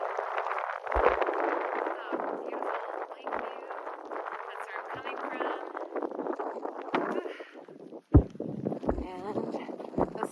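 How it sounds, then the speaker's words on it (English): Gusty wind with light rain on the Kungsleden trail buffets the microphone with a steady low rumble, and a sharp thump breaks through near the end. "a little windy, a little rainy."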